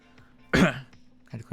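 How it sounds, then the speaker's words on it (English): One brief, close throat clearing, a short rough burst followed by a faint second rasp over a quiet background hum. "Had to clear my throat."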